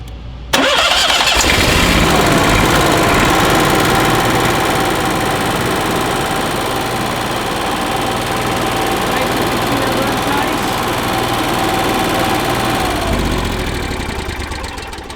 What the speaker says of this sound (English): this is a very standard generator in a lot of these units. It's the Onan 5500.